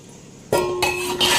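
Clean dishes just taken out of a Bosch dishwasher are handled, giving a sudden bright metallic clink that rings on, then further clinks and rattles of utensils close to the microphone.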